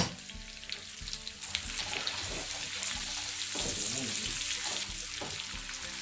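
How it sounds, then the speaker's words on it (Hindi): Potatoes frying with cumin seeds and turmeric for a dhaba-style aloo bhindi, giving a steady broadband sizzle with scattered spoon and pan clinks throughout, fairly close and moderately loud, with no talking. "जीरा और हल्दी डालकर आलू फ्राई कर लेंगे।"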